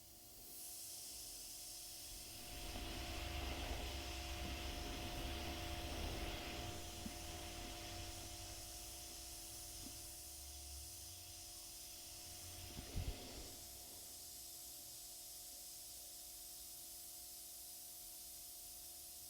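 A 2024 Evolution CR+ detail airbrush sprays with a steady, close hiss that swells and eases as the trigger is worked, with a brief sharper burst near the end.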